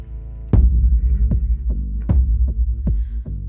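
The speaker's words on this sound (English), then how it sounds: "At the heart of the song is a huge drum which I built myself" A huge homemade drum with deer skins sounds in a song, a series of deep booming strikes with a long resonant decay, spaced irregularly like a slow heartbeat and played alone.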